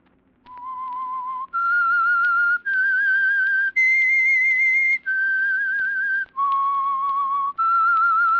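A lone person whistles the eerie theme signal of The Whistler, an old CBS radio mystery program, in a clear melody of sustained notes that rise and fall, loud and close with no talk over it.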